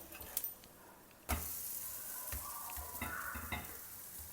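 Appam cooks in ghee over a low flame, a soft steady sizzle in a pan with a sharp scrape or knock and a few light utensil clatters against the cookware.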